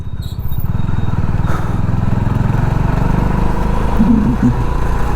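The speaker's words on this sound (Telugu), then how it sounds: "బైక్ ఇంజిన్ అయితే చాలా స్మూత్గా ఉంది" A motorcycle engine runs steadily at idle, a loud, close, even putter that holds throughout with a slight rise near the end.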